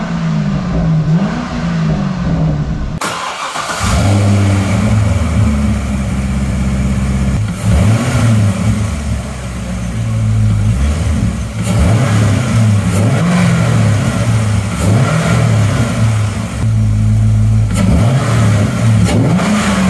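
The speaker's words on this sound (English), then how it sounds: "So as you heard, we do have some nice intake noise coming from the car again." A Corvette C6 Grand Sport with an LS3 V8 and an Airaid cold air intake idles, then revs repeatedly after a brief cut, deep throaty engine swells rising and falling close by.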